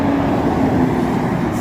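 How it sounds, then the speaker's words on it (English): Continuous rushing roar of cars and trucks on a big highway, heard from the roadside as a dense, steady wash of road noise. "Trucks and everything in both directions."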